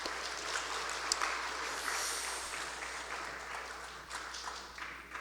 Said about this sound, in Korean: 그리고 김성수 집사님, 그 외의 집사님들 계속 보이지 않는 곳에 봉사하시는데 우리 따뜻한 박수로 감사의 마음을 전하면 어떨까요?